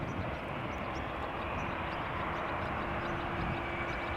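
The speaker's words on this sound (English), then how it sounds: "this is Delta Airlines flight 221, Boeing 7878 Dreamliner going to Dallas-Fort Worth, Texas" A Delta Airlines Boeing 787-8 Dreamliner, heard from near Amsterdam Schiphol Airport, gives off a continuous rushing jet engine roar, steady and moderately distant, with no voices over it.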